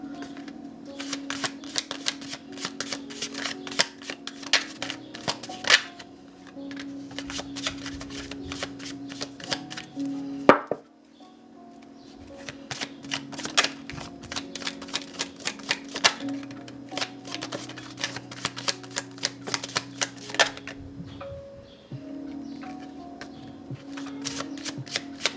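Tarot cards shuffle repeatedly in soft, close riffling bursts with short gaps, continuing almost throughout with only faint background sounds.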